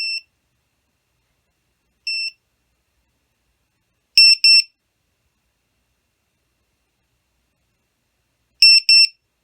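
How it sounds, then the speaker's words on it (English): A VIFLY Finder V2 self-powered drone buzzer emits sharp, high-pitched electronic beeps: two single chirps about two seconds apart, then pairs of double beeps spaced roughly four seconds apart, with silence between. "So every 4 seconds, it'll send out 2 beeps."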